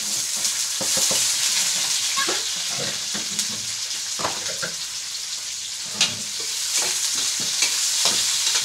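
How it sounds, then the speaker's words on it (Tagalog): Onion, ginger and tomato sauté in a hot pan: a steady, loud sizzle runs throughout, broken by repeated scraping stirs and occasional clinks of utensil on metal. "Ilalagay natin yung sibuyas, luya, kamatis."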